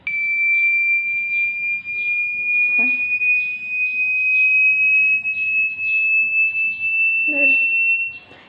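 A tone generator emits a loud, steady, high-pitched electronic tone that rises slightly over several seconds, with a person talking faintly underneath.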